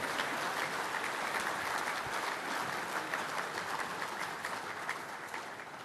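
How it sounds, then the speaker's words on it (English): An audience at a 2008 testimonial event for Mick Nolan applauds, a dense and steady round of clapping that carries on throughout, fairly distant and even in loudness, with no voices over it. "A big round of applause, Barry Davis."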